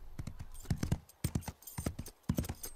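Cartoon horse hooves clip-clopping in a quick irregular trot, close and crisp, with a faint hint of whinny and no speech.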